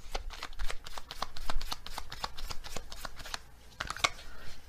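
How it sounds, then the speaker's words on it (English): A deck of oracle animal cards being shuffled by hand, a rapid series of crisp riffling snaps and slaps in quick rhythm, close and clear, with no voice over it. "Okay, let's get another animal card."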